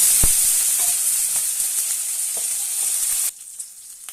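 Green chilies and cumin fry in hot oil in a pan, giving a loud, continuous close-up sizzle with a few stirring knocks before it suddenly cuts off near the end.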